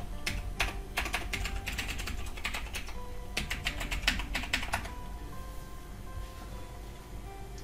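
Password keys tapped on a computer keyboard during a server login setup, quick bursts of clicks in uneven runs with short pauses, close and clear, then thinning toward the end.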